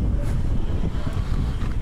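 Wind blowing steadily in an outdoor scene, a dense low rumble of gusts buffeting the microphone throughout, loud and continuous with no voices.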